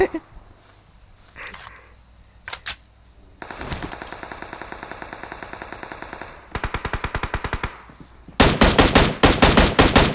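Automatic gunfire in the PUBG Mobile battle royale game: scattered shots give way to long rapid bursts, ending in a loud, sustained volley of fire.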